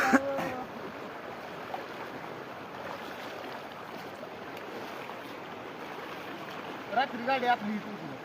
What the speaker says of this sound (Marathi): ही पाणी बघा इकडे कशा उकळ्या फुटले त्या पाण्याला नुसते